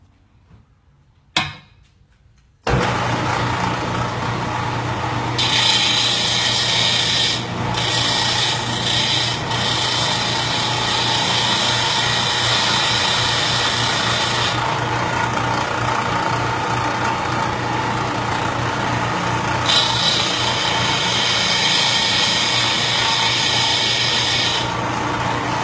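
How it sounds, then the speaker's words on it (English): A power sander runs steadily and loudly against the edges of a scratch-built Kenworth T800 model truck frame, a continuous rasping whir with shifting pressure, after a brief quiet start with a click. "what I'm going to do is go to my sander real quick. I'm going to clean up these edges"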